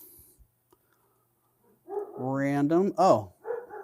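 Dogs bark and yip in a loud, close cluster with whining tones, following a near-silent stretch; a person speaks briefly.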